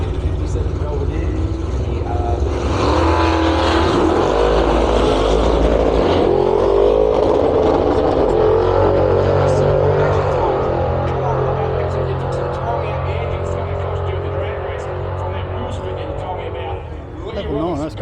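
A 1957 Plymouth Belvedere at a drag strip launches and accelerates hard, its engine swelling loud then fading as it runs down the track, with an announcer talking over it.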